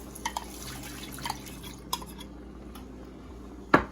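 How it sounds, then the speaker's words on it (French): Afang ingredients with smoked fish are stirred together in a pot, with wet, dripping sounds and a few light utensil clinks, ending on one louder knock. "Et je vais mélanger tout ça ensemble."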